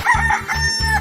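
A chicken or rooster crows in rapid, loud, rhythmic repeated bursts, close and clear over a steady background, with no talk.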